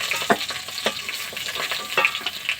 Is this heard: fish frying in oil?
yes